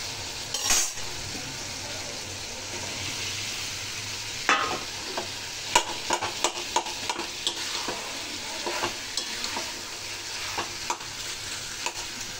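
Boiled potatoes being sautéed into a tomato masala in a pan, steady sizzling under repeated spatula scrapes and metallic taps, close and fairly busy throughout, with no speech.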